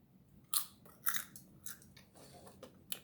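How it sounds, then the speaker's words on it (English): Homemade oven-baked potato chips bitten and crunched up close, several sharp crisp crunches in an uneven rhythm with quieter chewing between, no talk over them. "Can you hear my crunching?"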